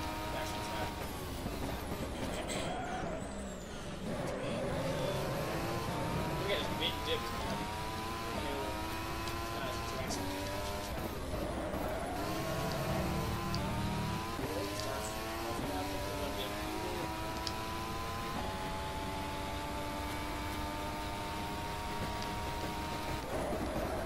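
Formula 1 car in the rFactor racing game, 2017 season, a continuous high engine wail with rising and falling gear-shift sweeps as the car loses control, loud and sustained.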